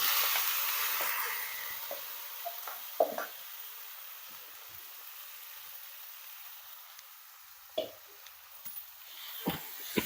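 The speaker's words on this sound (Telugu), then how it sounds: "ఇప్పుడు అవి వేగిపోయి ఈ పప్పు వేస్తున్నాను." Chana dal tipped into a hot pan for a coconut curry gives a soft, steady sizzle, with a few faint clicks and scrapes on top.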